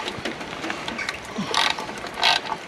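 Ratchet clicking while a 12mm Allen key turns in it on a tap fitting, worked outdoors: two short bursts of fast ratcheting clicks, close and fairly loud, over a light background.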